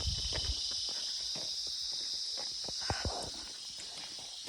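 Horse walking through a green forest in the afternoon, with soft irregular hoof thuds close by under a steady high insect chorus.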